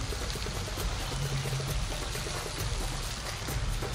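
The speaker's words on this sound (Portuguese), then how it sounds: "Vou fazer ali filtragem da água com o bico." Flamingos filter water with their beaks at a safari park lagoon, giving a steady, close pouring and trickling wash of water that runs without a break and with no voices.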